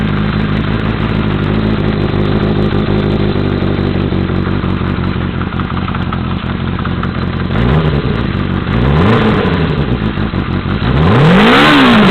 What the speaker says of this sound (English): Now I know that's not good to just dry rev it like that, but just trying to show how tight the motor is.